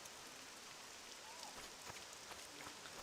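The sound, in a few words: rain in the video game Morrowind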